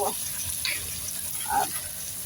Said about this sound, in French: et vous venez déglacer avec le vin blanc